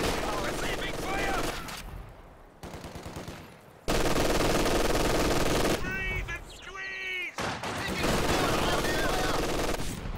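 Rapid machine-gun and rifle fire from a Company of Heroes 2 battle comes in sustained loud bursts with brief gaps, mixed with voices and battlefield noise.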